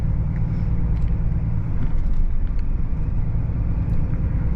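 A van overtaking from behind on a road, heard from inside a vehicle as a steady, loud low engine and road rumble that swells slightly midway.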